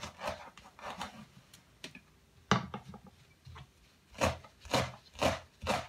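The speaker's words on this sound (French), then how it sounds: "on va découper notre persil." Fresh parsley being chopped with a knife on a board, soft irregular scraping and tapping strokes, quiet and close, with no voices.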